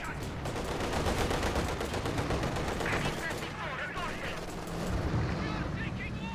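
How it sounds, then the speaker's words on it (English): Artillery and rifle fire in the World War II strategy game Company of Heroes 2 crackle in dense, rapid bursts, with heavier booms mixed in, while a voice talks over the battle. "LEFH point blank shots killing a conscript squad."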